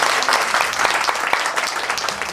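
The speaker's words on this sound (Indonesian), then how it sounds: "Jadi tepuk tangan dulu dong" Audience clapping at a morning gathering, a busy round of many hands with sharp individual claps audible, steady and close throughout without speech.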